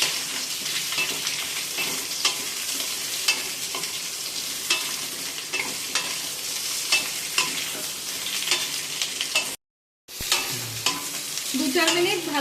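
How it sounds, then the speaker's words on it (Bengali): Pieces of raw banana, papaya and drumstick fry in oil in a pan for Bengali shukto, with a dense, continuous sizzle and frequent stirring scrapes throughout. The sound breaks off briefly for a moment before resuming. "সবজিগুলোকে ভালো করে একটু ভাজতে"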